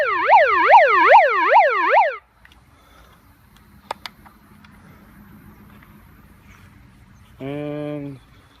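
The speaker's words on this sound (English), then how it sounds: "Got a siren on it." Siren speaker fitted on a Suzuki Vitara wails loud and close for about two seconds, then cuts out, followed by quiet handling noise and a short buzzy electronic tone near the end.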